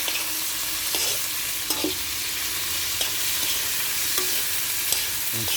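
Pork adobo being stirred in a pan as it cooks, with a steady sizzle and frying hiss punctuated by sharp clinks and scrapes of the utensil against the pan.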